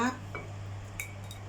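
Stir-fried pumpkin with shrimp is scooped from the pan onto a plate, with a few light metallic scrapes and clinks of the utensil; a voice is briefly heard at the start.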